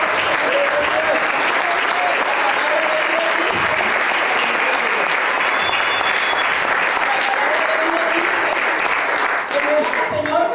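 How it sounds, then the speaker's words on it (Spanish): Church congregation applauding steadily for the whole stretch, a dense continuous wash of clapping at even loudness, with a few voices calling out faintly within it. "vamos a darle un aplauso al Rey de Reyes y Señor de Señores"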